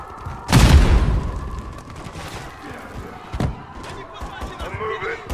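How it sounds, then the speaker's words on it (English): A grenade explodes in Call of Duty Modern Warfare 3, a loud close boom with a long rumbling tail, followed by a fainter blast later amid gunfire and battle ambience, with voices talking over it. "Oh, another nade."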